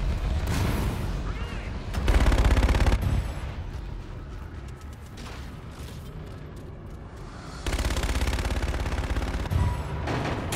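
Gunfire in the video game Call of Duty: Infinite Warfare comes in two heavy bursts separated by a quieter stretch of rumbling battle ambience, with faint radio-style voices in the mix.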